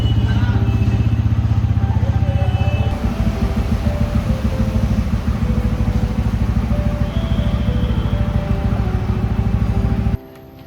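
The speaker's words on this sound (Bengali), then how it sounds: "আজকে বাইকে করেই যাব" A motorcycle engine drones continuously at close range, with steady throbbing pulses and road rumble throughout, cutting off abruptly at the end.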